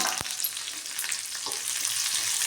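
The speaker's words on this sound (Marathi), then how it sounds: "कांदा पण आपण परतून घेऊया" Thinly sliced onion sizzles and fries in hot oil in a pan with a constant crackling hiss, a sharp tap of a utensil near the start and a few soft stirring sounds, with no one talking.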